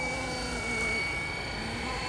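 Steady, dense rotor and motor whine from a Flywing RC helicopter in GPS mode as it brakes hard to a stop, a continuous close buzz with a slight swell midway and no pause.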